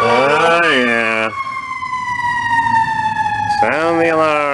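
A fire engine siren wails loud and close, rising and falling, then holding a long steady tone before sweeping again, heard with no talking over it.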